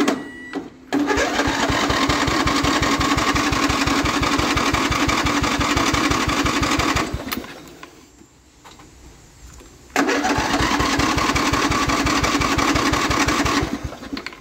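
A Mastercraft engine is cranked with the choke on, giving a steady rapid chugging that runs for several seconds, drops away into quiet, then resumes for another long stretch of cranking, close and loud with no voices.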